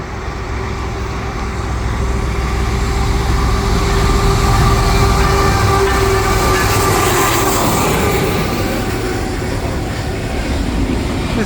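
A CPKC freight train hauling stack cars rolls through Valois Station in Pointe-Claire, a loud, close and steady rumble with a faint droning tone held over it from start to end.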